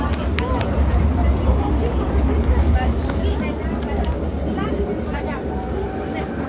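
A constant low rumble and rattle of a moving tram fills the clip as ticket inspectors board, with a murmur of passengers' voices and occasional squeaks.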